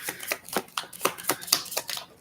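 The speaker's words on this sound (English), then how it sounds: "I don't even know why I'm shuffling these this way." Playing cards are shuffled in quick rhythmic riffles, a steady run of crisp flutters with no voices.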